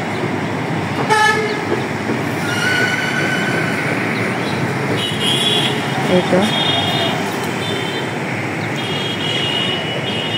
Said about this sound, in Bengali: সারাক্ষণ গাড়ির আওয়াজেই এখানে কান জ্বালাপালা হয়ে যায়